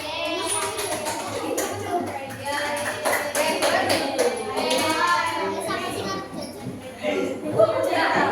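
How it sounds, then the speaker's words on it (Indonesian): A classroom of children applauding a student group after its presentation, with dense, steady clapping that runs throughout and children's voices mixed in. "Berarti beri tepuk tangan untuk kelompok 4."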